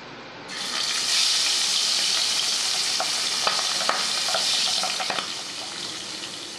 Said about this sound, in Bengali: পাবদা মাছটা নর্মাল নুন হলুদ মাখিয়ে আমি এটা সর্ষের তেলে ভেজে নেবো।